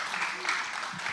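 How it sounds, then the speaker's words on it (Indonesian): Church congregation applauding at a Sunday service, a dense wash of clapping filling the whole short stretch with no clear gaps. "Berikan tepuk tangan lagi yang lebih dahsyat lagi."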